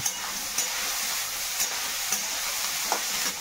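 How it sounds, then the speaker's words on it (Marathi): Tomato, onion and green chili roast in a pan as a steady, close sizzle and hiss, broken by a few light stirring clicks at regular intervals. "टमाटा कांदा मिरची भाजायला घेतले"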